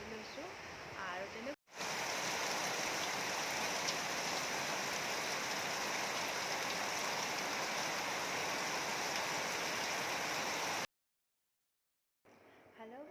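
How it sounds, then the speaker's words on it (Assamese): Sudden heavy rain, a dense, loud and steady hiss of downpour that starts abruptly and roars without pause for several seconds before cutting off, with brief faint sounds at the start and end. "হঠাতে এজাক বৰষুণ আহিছে, একদম জোৰছে আহিছে।"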